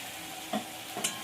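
Spice paste of ginger, cumin, chili, garlic and turmeric sautéing with tomato and onion in a pan, a soft sizzle broken by two quick scraping stirs, short and close.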